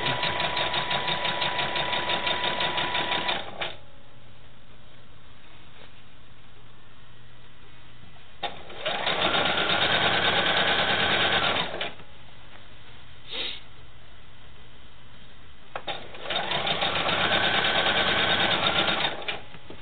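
A sewing machine stitches quilt sashing in three loud bursts of rapid mechanical chatter, each lasting a few seconds, separated by quiet pauses and small clicks.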